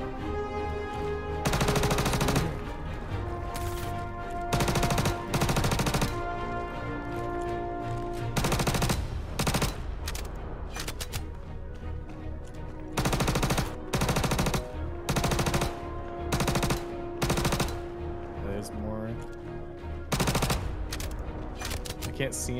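Repeated bursts of shotgun fire from weapons in the video game Star Citizen, loud and close, arriving in clustered volleys with brief gaps over steady game ambience and a held tone.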